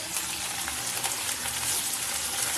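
Fish fries in hot oil with mustard and garlic, with a steady, close sizzle and small popping spatters throughout.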